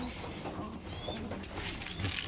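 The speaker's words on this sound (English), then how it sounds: "Brought some more birds across as well," Pigeons inside a loft, with soft cooing and low murmuring calls spread throughout, some brief higher chirps, all at moderate level against a steady background hum.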